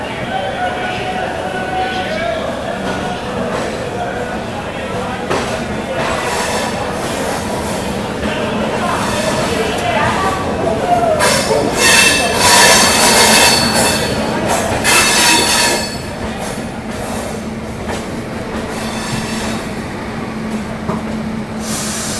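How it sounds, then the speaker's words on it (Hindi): Patliputra Superfast Express pulling out of Itarsi Junction, with steady rolling rumble, clattering railcars and squealing wheels that swell and peak midway, a voice talking over the train noise. "चलिए दोस्तों निकल गई अपनी Pataliputra superfast express Itarsi junction से।"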